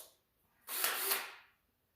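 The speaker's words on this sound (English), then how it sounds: "chuck this in the drill." A power drill whirs once in a short, fairly quiet burst of under a second, its high-pitched hiss rising and falling in a quiet room.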